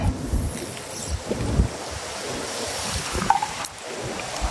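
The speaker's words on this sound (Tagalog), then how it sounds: "Lakas ang hangin." Gusty wind buffets the microphone in rough, rumbling bursts while fishing at a mangrove spot, with rustling and a faint watery wash underneath.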